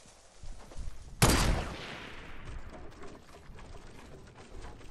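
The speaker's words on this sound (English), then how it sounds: "Oh, God, I'm getting shot at." A single sharp, loud gunshot in Fortnite cracks out near the start and decays into a lingering rumble and echo, with faint game ambience around it.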